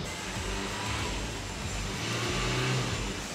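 A car engine runs steadily during an engine and gearbox check, a continuous mid-range hum with slight revving swells, fairly close and loud throughout, with no talk over it.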